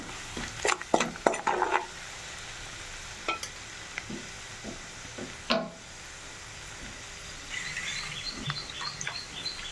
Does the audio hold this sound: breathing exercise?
no